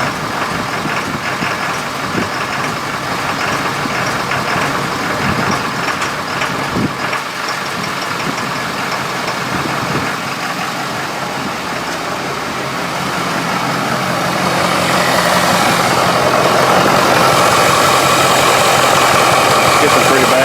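A cross-fueled 6.7L diesel truck engine idles roughly and unevenly, a steady loud rumble that grows harsher and louder toward the end.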